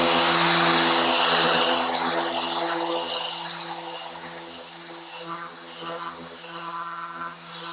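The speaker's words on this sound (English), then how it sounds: "Mirka Abranet on the sander itself, and this will give you an idea of just how well the Abranet works" A random orbital sander fitted with a Mirka Abranet disc and connected to a dust extractor runs with a steady electric whine and a hissing scrub of abrasive on a surface, starting loud and then easing somewhat while the motor keeps humming.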